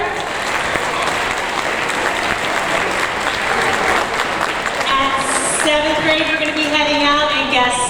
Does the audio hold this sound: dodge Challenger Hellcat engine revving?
no